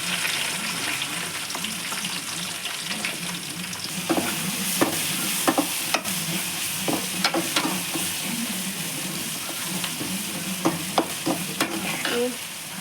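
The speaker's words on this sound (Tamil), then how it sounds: "வெந்தயம், இடித்து வச்ச பூண்டு, ஒரு கைப்பிடி அளவு கருவேப்பிலை, இடித்த சின்ன வெங்காயம்," Fenugreek, crushed garlic, curry leaves and crushed shallots fry in hot oil for a Thanjavur-style fish curry, a steady close sizzle with occasional sharp crackles and stirring clicks throughout.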